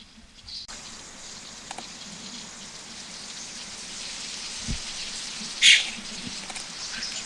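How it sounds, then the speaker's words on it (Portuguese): Steady rain falling as a soft, continuous hiss with a few faint drips and a brief louder patter, heard from nearby without voices. "Aqui já está chovendo, começou a chover aqui já."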